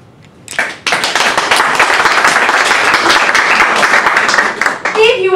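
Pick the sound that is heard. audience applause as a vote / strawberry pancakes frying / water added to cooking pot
audience applause as a vote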